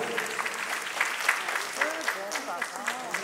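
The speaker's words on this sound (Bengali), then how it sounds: "একটা জোরে হাততালি হয়ে যায়" Audience applause at the Bango Nari Samman 2024 awards ceremony, moderately distant and steady, with a voice talking over it.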